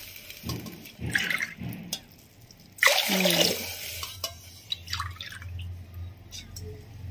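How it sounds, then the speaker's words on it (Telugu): Glasses of water poured into rice and dal in a pot, giving several close splashing pours, one louder gush in the middle and lighter trickles around it, without speech. "దానికన్నా మనం 4 గ్లాసుల నీళ్లు వేసుకోవాలి."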